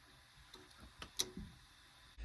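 An old electric water heater in a barn gives faint, scattered ticks as it heats up after a reset, a few soft clicks over quiet background with a louder bump at the end.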